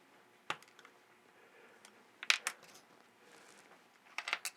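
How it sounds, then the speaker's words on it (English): A razor blade cuts plastic tubing to length in a cutting jig, making a few sharp, faint clicks and snips in a quiet room. "we'll slide it into our cutting jig. And then we can just use a razor to cut it to the proper length"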